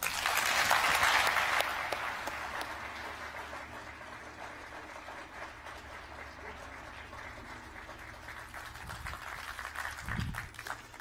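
An audience at a university presidential convocation applauds the incoming president, the clapping loudest at first, then easing into a softer, steady patter before swelling slightly again near the end, with a brief low rumble late on.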